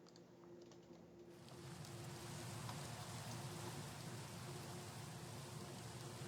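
Steady in-game rain hisses in as a broad wash of noise, swelling up after the first second and then holding an even, full patter.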